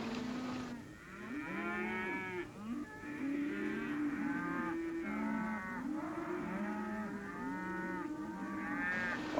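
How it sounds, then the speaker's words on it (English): A rounded-up herd of cattle in a grazing basin lowing continuously, several overlapping moos rising and falling one after another, fairly close and loud with no talk over them. "our men are all set to run off Kendall's cattle"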